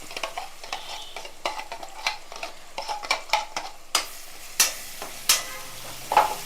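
Raw turmeric masala paste frying in ghee and a little oil, stirred with a series of scraping, knocking strokes against the pan at a steady pace over a quiet sizzle, close by, no talking.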